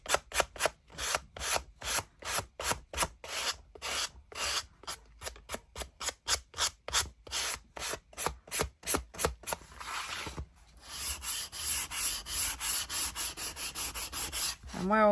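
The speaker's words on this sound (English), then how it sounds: "I love sanding." Rhythmic back-and-forth sanding strokes rubbing away glue on a handmade paper ephemera folder, fast rasping pulses close up, shifting to a steadier continuous scrubbing toward the end, no talking.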